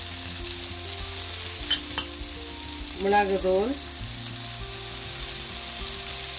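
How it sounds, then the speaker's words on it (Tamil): Spices including chili flakes and turmeric fry in a pan with shrimp and onions, giving a continuous close sizzle with a few scraping stir strokes; a voice speaks briefly over it. "இந்த கரம் மசாலா எல்லாத்தையும் போட்டு ஒருக்கா நல்லா கலந்து விடுவோம்"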